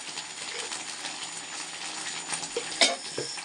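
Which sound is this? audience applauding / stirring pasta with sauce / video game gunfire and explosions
stirring pasta with sauce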